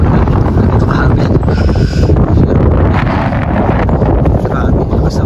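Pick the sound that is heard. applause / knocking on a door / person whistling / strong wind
strong wind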